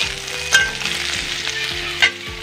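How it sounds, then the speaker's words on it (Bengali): Spiny gourd and potatoes stir-fried together in a pan, producing a continuous close sizzle with two brief scraping stirs of a utensil, no voices. "কারকুল আর আলু মিশিয়ে।"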